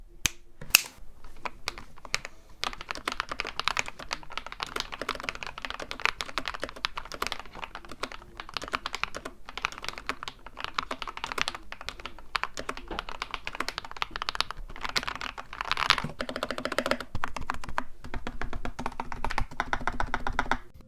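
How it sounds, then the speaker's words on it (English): Typing on a modded budget mechanical keyboard with lubed switches, giving a deep creamy thock: dense, continuous close-up keystrokes in a fast, uneven rhythm, with no talking. "the end result of all these mods gives the keyboard a nice creamy Thocc sound."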